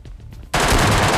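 Sustained burst of MK14 rifle gunfire in the PUBG Lite video game, erupting loud and dense after a short quiet lead-in and continuing without pause to the end.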